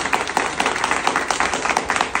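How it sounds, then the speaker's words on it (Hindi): Audience at a network marketing event clapping vigorously, a brisk continuous patter of many hands with rhythmic peaks, moderately loud and near, no voices over it. "मैं एक बार चाहूंगा आप सब अपने सम्मान में जोरदार तालियां बजा लें।"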